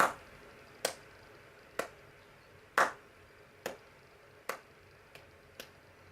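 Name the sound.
slow clap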